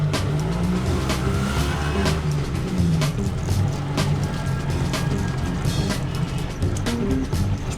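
A car rolls along at low speed on a drive in India, its engine a steady close drone with road noise and occasional clicks and knocks throughout, no talking.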